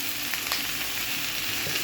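Chopped tomato and green chilli fry in hot oil for semiya upma, giving a steady close sizzle throughout with no voices.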